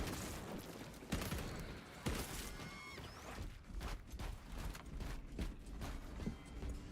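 Rapid automatic bolt rifle fire from a Warhammer 40K Space Marine 2 game, a dense run of sharp repeated shots over a busy battle din with clanking and a whooshing effect, with no talk.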